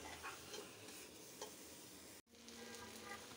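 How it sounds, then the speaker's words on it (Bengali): Bitter gourd stirred and fried in a pan with onion, giving a steady close sizzle with scraping stir strokes, broken by a brief drop-out near the end. "এখন নেড়ে চেড়ে কষিয়ে নেব"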